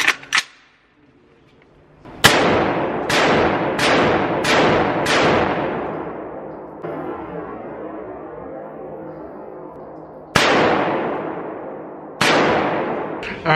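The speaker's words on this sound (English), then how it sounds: "All right, y'all, let's go ahead and shoot this AR." Loud AR rifle shots at an outdoor gun range, fired singly with short pauses: five in quick succession, then a gap, then two more, each with a sharp crack and a ringing decay.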